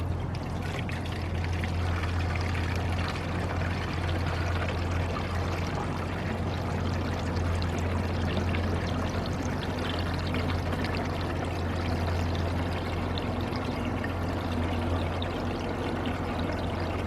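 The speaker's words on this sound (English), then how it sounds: "I'm gonna pour this into there as much as I can and put it inside the expansion tank." Fluid poured steadily into the coolant expansion tank of a 1999 Ford Expedition with a 5.4 engine, a continuous close gurgling stream running unbroken the whole time over a low engine-bay hum.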